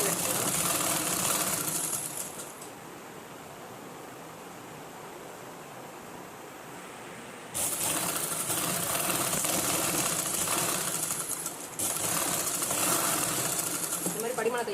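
Sewing machine stitching the collar of a government school uniform coat, running in loud steady bursts, pausing to a softer lull in the middle, then resuming with continuous whirring.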